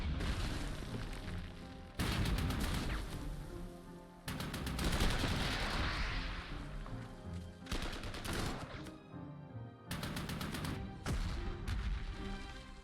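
Artillery barrages in the wargame Panzer Corps 2, a series of five heavy, loud booming volleys spaced a couple of seconds apart over a continuous rumbling, layered backdrop.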